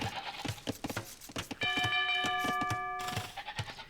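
A town bell rings in a strategy video game, a sustained bright chiming tone in the middle of the stretch, set among quick clicks and other busy game sound effects.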